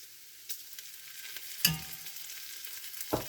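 Bacon and garlic fry in a pot for New England clam chowder, giving a soft, steady sizzle with a couple of sharp clunks from the pot partway through and near the end.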